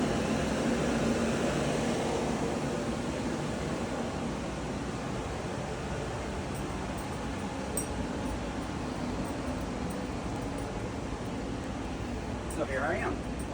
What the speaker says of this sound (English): you could feel this air conditioning system coming out right here